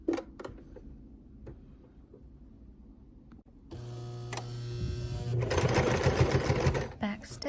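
A sewing machine stitches a quilt in a quilting class, starting after a stretch of quiet handling noises and a few clicks, then running steadily and loudly through the second half with a dense mechanical whir.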